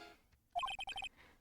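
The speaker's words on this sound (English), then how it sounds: "What kind of ringtone is that?" A phone ringtone from the Phoenix Wright: Ace Attorney video game plays a short, bright electronic melody of quick repeated tones, clear and close, with no voices.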